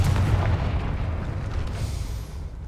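Confringo blasting spell explosion in Hogwarts Legacy: a loud, deep booming blast with a rumbling tail, heard alone.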